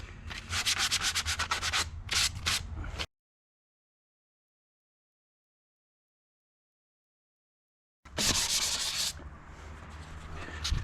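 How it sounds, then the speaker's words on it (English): Rhythmic back-and-forth sanding of a wooden garden chair being prepped for spraying, close and abrasive, in two bursts separated by several seconds of silence. "so that's the sanding doing"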